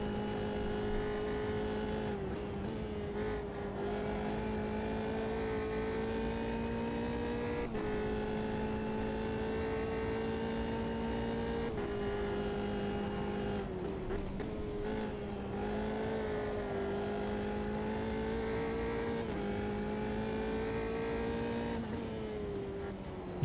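Engine note of a race car in the Automobilista 2 racing video game, a steady droning loop that repeats with a slight rhythmic rise and fall, loud and continuous with no talk over it.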